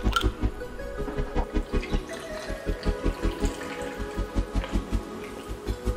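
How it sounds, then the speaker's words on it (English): Grapefruit soda pours into a tequila cocktail in a glass, a close liquid splashing and glugging with a rhythmic bubbling pulse that continues steadily. "And let's top with grapefruit soda"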